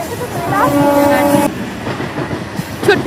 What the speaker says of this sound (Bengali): এই যে ট্রেন।